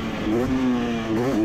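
A 2023 Husqvarna TC250 TBI two-stroke dirt bike engine revving at a motocross track, a close, loud, sustained buzzing rev that dips briefly and climbs again, heard alone.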